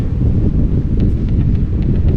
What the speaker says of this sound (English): It's super windy now in this lagoon